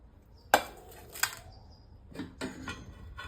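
Boiled tapioca pieces dropped onto a metal plate, giving two sharp clinks followed by softer clattering and scraping, close and alone without talk.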